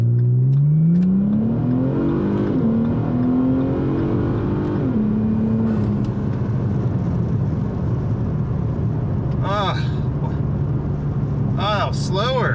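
A Ford Taurus SHO in sport mode accelerates hard from inside the cabin, its engine note climbing through the gears in long rising sweeps, loud and close, with brief voices breaking in near the end.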